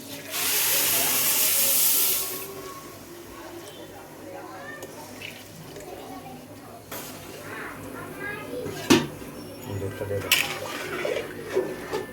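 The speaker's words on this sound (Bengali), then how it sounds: "এখন আমি গরম পানি দিয়ে দিব।" Hot water is poured into a pot of fried pilau rice, setting off a loud, steady burst of steam hiss for about two seconds that then dies away, followed by quieter kitchen clatter and a voice speaking.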